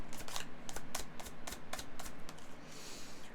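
Tarot cards being shuffled by hand in a run of quick, crisp riffling bursts with short pauses between them, close and fairly quiet with no talking.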